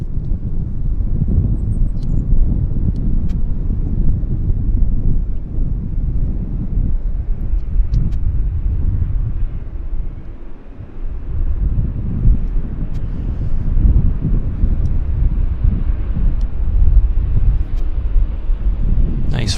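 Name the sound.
Westjet airliner rolling out after landing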